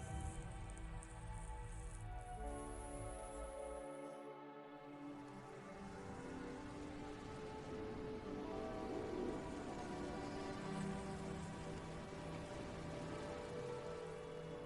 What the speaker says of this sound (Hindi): कुछ इलाकों में जबरदस्त बारिश होती है।